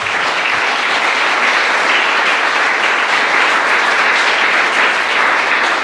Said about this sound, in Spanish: Usted puede darle un fuerte aplauso al Señor en esta mañana.